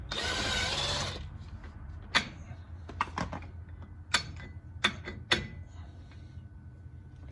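An impact gun loosens lug nuts on a 2014 Dodge Ram during a brake job, with one short, loud burst at the start followed by scattered sharp metallic clicks and clanks nearby.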